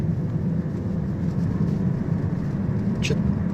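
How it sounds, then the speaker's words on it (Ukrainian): A 2017 Ford Escape 2.0 4WD rolls over a speed bump and picks up speed, heard from inside the cabin as a steady, close engine drone and road rumble with no distinct thump. "зараз лежачий поліцейський проїжджаємо. Даємо трішки газу"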